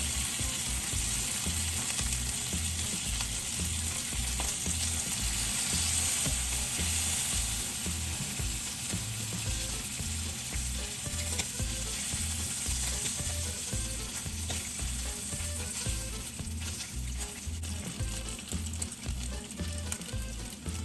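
Bacon fries in a pan with a loud, constant sizzle and crackle that runs the whole time, and a low, even rhythmic hum sits beneath it.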